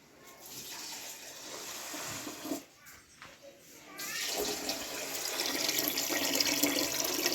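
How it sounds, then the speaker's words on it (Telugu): Water runs and splashes into a pressure cooker, a soft steady flow that briefly breaks off, then resumes fuller and louder until the end. "దీనికి 2 చెంబులు అయితే నీళ్ళు అయితే వేస్తాను"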